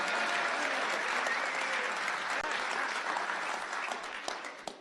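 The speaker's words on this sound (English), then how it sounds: "You can applaud." Sustained applause from an audience at a town board meeting, dense and steady throughout, easing slightly toward the end with a few louder individual claps.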